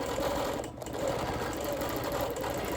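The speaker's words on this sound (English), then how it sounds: "Quilting in one continuous line is kind of an art form." A sewing machine stitches continuously with a fast, even needle rhythm, quilting in one unbroken line with neon thread. The sound is close and steady, with a brief dip partway through.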